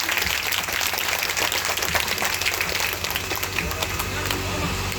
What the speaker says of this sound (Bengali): জোর করে করতালি দিয়ে অভিনন্দন জানান প্লিজ।